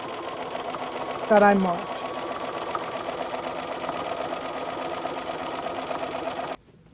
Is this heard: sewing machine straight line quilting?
yes